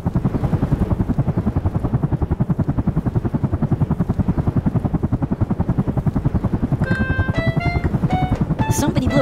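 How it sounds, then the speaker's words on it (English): Toy cartoon police helicopter with a rapid, steady rotor chop throughout, loud and close, with bright electronic chime tones near the end. "Police copter, please help!"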